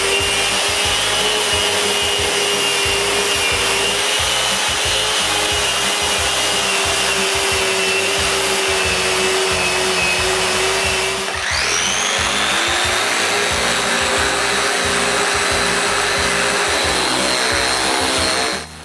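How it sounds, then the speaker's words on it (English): A power sander runs continuously on wooden dresser panels with 220 grit paper, a loud steady whine with a rough abrasive rasp, shifting pitch midway as pressure or position changes, close and alone. "I sand both panels up to 220 grit"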